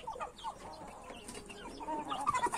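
Chickens cluck and chatter inside a secured enclosure, several birds making busy, moderately close calls with brief louder squawks toward the end.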